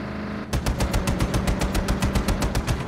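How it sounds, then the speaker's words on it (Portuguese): Heavy automatic gunfire erupts in the Just Cause 3 video game after a brief lull, rapid bursts hammering continuously and loudly with no talk over it. "que tanto tiro é esse?"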